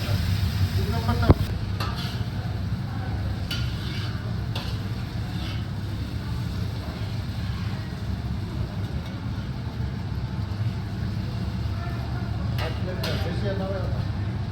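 Beef for a Szechwan stir-fry sizzles in a very hot pan with occasional clanks of a utensil against the metal, under a constant loud hiss and rumble.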